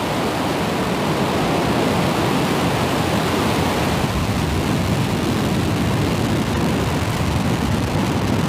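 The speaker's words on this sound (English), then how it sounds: "Ignition. And liftoff of Falcon 9." Falcon 9 rocket at liftoff, a continuous broadband roar that stays steady and loud throughout without a break, like a distant rushing rumble with no voices over it.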